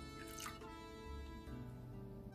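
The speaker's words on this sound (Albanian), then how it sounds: "Mbi qumështin, do shtoj një gotë të qajit me ujë ose 110 ml." Water pours from a glass into about 200 ml of milk in a deep bowl, a steady liquid trickle and splash heard close up and alone for a couple of seconds.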